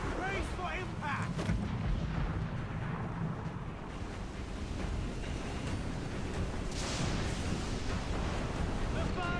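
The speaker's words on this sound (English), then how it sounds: "Mortar incoming!" Mortar artillery fire in the video game Assassin's Creed IV: Black Flag rumbles in a dense, continuous roar, with wind-like and surf-like washing noise around it at sea.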